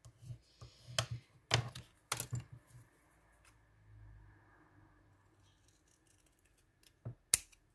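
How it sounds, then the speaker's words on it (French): Scissors snip leftover craft paper in half: several sharp, close cuts in quick bursts near the start, then a quiet pause with a faint low rustle, and one last crisp snip at the end. "je vais le couper en deux, je crois"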